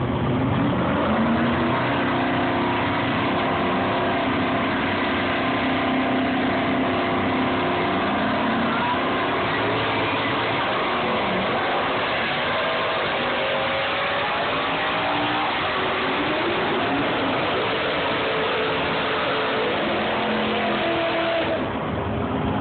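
Cars drive past one after another in a steady stream of road and engine noise, some passes rising and falling in pitch, loud and continuous throughout.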